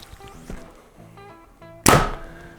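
Arrow shot from a Sanlida Dragon 10 bow through a chronograph: a sharp, loud single thwack and whoosh near the end, after a quiet stretch with faint background noise.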